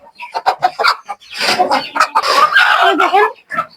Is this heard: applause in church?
no